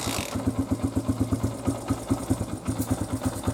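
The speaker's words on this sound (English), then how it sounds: "It's just barely idling." A motorcycle engine idles unevenly up close, a loping chug of rapid pulses that briefly stumbles before steadying.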